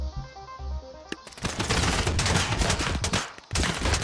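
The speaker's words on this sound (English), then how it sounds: "you can hear the bullets pinging off those shields" Rapid, dense gunfire crackles almost nonstop in the WW2 Russia faction battle of the game TABS, with bullets pinging off ballistic shields amid the bursts. A musical passage plays at the start before the shooting kicks in, and there is no talking.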